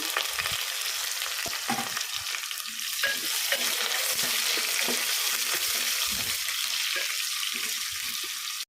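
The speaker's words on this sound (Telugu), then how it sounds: "ఇప్పుడు ఉల్లిగడ్డలు కూడా వేసేస్తున్నాను ఇందులో" Onions sizzle loudly in hot oil inside a pressure cooker, a steady frying hiss with repeated scraping stirs throughout, close and without talk.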